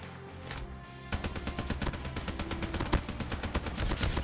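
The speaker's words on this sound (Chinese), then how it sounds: "队友有枪声" Rapid automatic gunfire from a teammate in Call of Duty Mobile, starting after a quieter opening and continuing as dense, close bursts of sharp shots.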